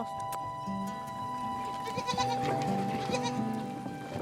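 Several goat kids bleat in short wavering cries, one after another, with background mountain oasis ambience and a steady hum, and the bleats grow busier toward the end.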